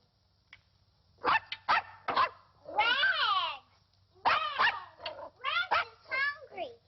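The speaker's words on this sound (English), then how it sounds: "He's not a dog, Mother. He's only a puppy." A puppy yaps and whines in a 1951 film scene, several short high barks followed by longer whimpering cries, close and clear over a faint low hum.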